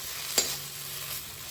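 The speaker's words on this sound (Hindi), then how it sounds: "साग को स्लो फ्लेम पर भूनते हुए 5 मिनट हो चुके हैं।" Chickpea leaf greens (saag) fry on a slow flame, giving a steady close sizzle with one sharp stir or scrape near the start, then the low even hiss carries on alone.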